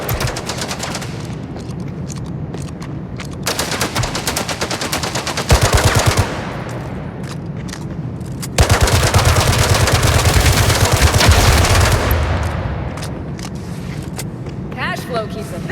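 Bursts of rapid gunfire in the mobile game Gangstar Mirage City crackle over game music and sound effects, with voices talking throughout and a louder stretch of sustained shooting near the middle.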